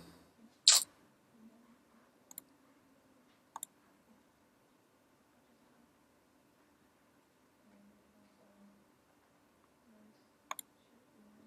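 Sparse mouse clicks in a quiet room: one sharp click near the start, then a few isolated faint clicks spaced seconds apart, with no talking.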